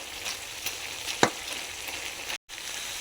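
Boiled greens stems and potato are stirred in a frying pan, giving a steady close sizzle with one sharp scrape of the spoon partway through, no voices.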